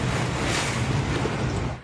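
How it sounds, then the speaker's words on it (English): Strong wind gusting up to 93 km/h with heavy rain roars steadily during a Queensland storm, buffeting the microphone with a dense, rushing noise throughout; gusting weather dominates, with no voices. "Wind gusts of up to 93 kilometres an hour, sending heavy rain sideways"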